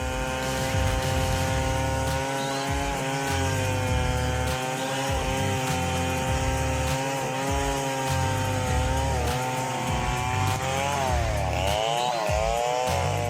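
A big chainsaw cuts down an old rain tree, its engine droning loud and steady with a sustained high whine, pitch bending and wavering near the end as the bar works through the wood.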